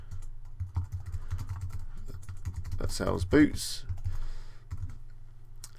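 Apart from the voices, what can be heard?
typing on a computer keyboard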